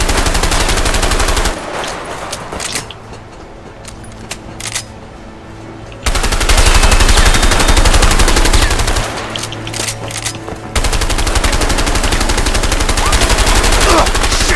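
Sustained automatic gunfire in the co-op video game A Way Out, loud rapid bursts with brief lulls, dense and continuous throughout.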